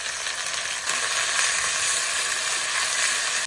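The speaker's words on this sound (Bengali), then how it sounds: "পেঁয়াজ আদা রসুন ভেজে নিয়েছি" Onion, ginger and garlic paste frying in hot oil in a pan with bay leaf and whole spices, a steady dense sizzle running loud and unbroken to the end.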